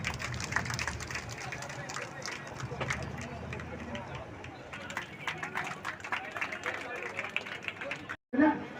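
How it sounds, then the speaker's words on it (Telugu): An audience at a Bank of Baroda gathering in Sirikonda claps steadily in a quick, even rhythm, a room-filling patter that runs under a speaker talking over a loudspeaker and stops abruptly near the end. "చప్పట్లు కొట్టండి, చప్పట్లు కొట్టండి"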